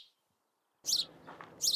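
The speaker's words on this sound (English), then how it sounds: "the place is full of birds here this morning." Birds chirping in bursts at Swan Lake in Victoria, BC, on a morning walk: two bright clusters of high chirps framing a short stretch of softer calls, moderately close, after a quiet opening.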